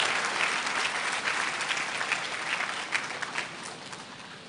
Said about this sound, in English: Let's welcome him with a round of applause, ladies and gentlemen.